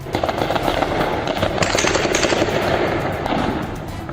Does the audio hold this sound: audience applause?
no